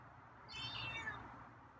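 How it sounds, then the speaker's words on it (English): A feral cat outside a window lets out a single soft, drawn-out meow, faint and somewhat distant over a low steady background hum, with no talking. "More meows."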